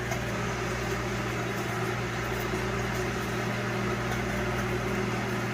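A microwave oven running steadily while cooking three bacon slices in a small pan, with a continuous close hum and mechanical drone and no talk.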